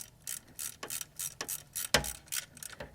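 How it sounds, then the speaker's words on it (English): A hand ratchet tightens bolts on a Toyota Camry's 2.2-litre 5S-FE engine during timing belt service, giving repeated bursts of close, crisp clicking with short pauses between strokes. "just ratchet them down"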